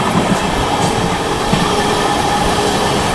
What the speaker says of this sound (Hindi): Amrit Bharat express parallel with Amrit Bharat express